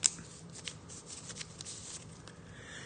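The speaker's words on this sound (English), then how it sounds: "And it's hard to shuffle because, I mean, you do see the cards and you know what's on top" A deck of playing cards being shuffled by hand during a tabletop card game, with a sharp snap at the start followed by soft riffling and papery flicks, close and quiet with no talking.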